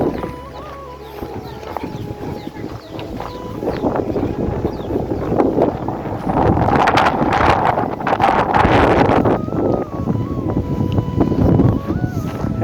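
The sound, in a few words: strong wind blowing near Dhumba Lake, Mustang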